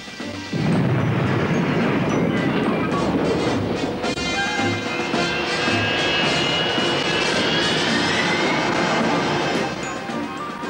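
Harrier vertical take-off jet roaring after a sudden onset, a loud sustained engine blast with rising whine lasting several seconds before easing slightly.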